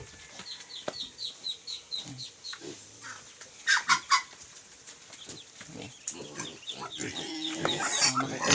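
Native pigs eating Indian mango on a rural farm, with chickens clucking repeatedly nearby, pigs grunting and chewing close by, and birds calling in the background.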